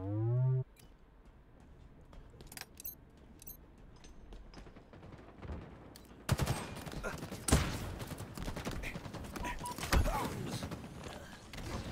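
Gunfire in the Halo video game: bursts of rapid shots and mechanical clatter that intensify in the second half, with a few louder sharp reports standing out.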